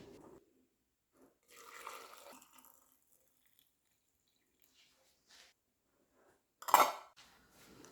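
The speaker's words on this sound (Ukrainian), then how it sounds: "І накриваю кришками." Metal lids go onto glass jars of cherry compote in a quiet kitchen, a few soft scattered clinks and rattles, then one sharp metallic clatter near the end, with near-silence in between.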